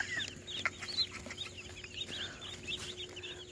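Chicks peeping in a small cluster nearby, soft high chirps overlapping steadily against a faint background hum, with no talking.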